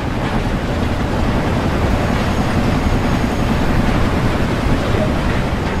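An LMS Stanier 8F steam locomotive in a railway simulation game gives off a continuous, loud rumble of running gear and rolling wheels, steady throughout with no talk.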